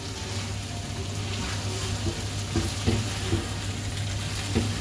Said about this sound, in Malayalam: ഇനി നമ്മളിതിലോട്ട് നമ്മൾ ഫ്രൈ ചെയ്ത് വെച്ച് ചിക്കൻ ഇട്ട് കൊടുക്കാം. നമുക്ക് നന്നായിട്ടൊന്ന് സോട്ട് ചെയ്തെടുക്കാം.